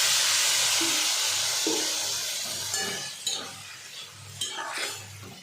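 Water poured into a hot pan of cooking greens, a steady loud hiss and sizzle with light stirring and utensil clinks scattered through.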